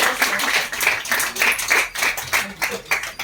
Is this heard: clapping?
yes